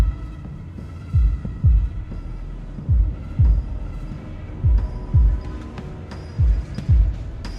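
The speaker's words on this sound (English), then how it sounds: "I don't know why I enjoy loud, imposing heartbeats overcast" Deep, booming heartbeats from the video game Limbus Company thud in pairs, a loud throbbing lub-dub repeating steadily over a low humming backdrop, no voices.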